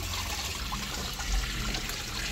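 Water pours from a jug into a goldfish pond with a continuous splashing trickle, close up and fairly quiet, with no voices.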